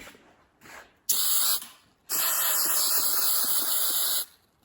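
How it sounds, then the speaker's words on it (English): Spray adhesive hisses from an aerosol can in a web-like pattern while a new seat cover and headliner go into a 1978 Sierra Grande square-body C10: a short close burst, then a longer steady spray. "It sprays out in a web-like pattern."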